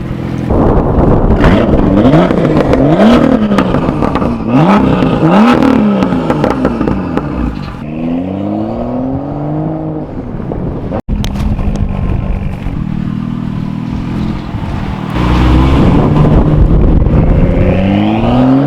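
BMW M2 fitted with a Remus exhaust revs hard and loud, engine pitch sweeping up and down in repeated climbing blips, then settling into a throaty idle before another rev, close to the exhaust with no talk.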